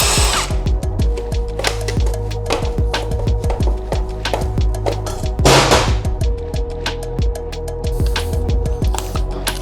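A pneumatic impact wrench with a chrome extension and socket, working on a two-stroke street cruiser build, hammers in loud rapid rattling bursts nearby, starting and stopping repeatedly with no talk.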